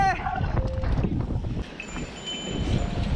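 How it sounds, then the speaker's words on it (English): Head-on wind buffeting the microphone while riding down a trail at Montaña de Oro, a rough continuous roar that stays loud and close, with voices briefly heard. "Head on wind. I can't go fast, eh."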